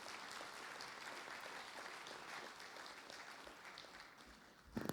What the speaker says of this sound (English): why don't we give a huge round of applause to Elliot, Jon, Katie, and Santi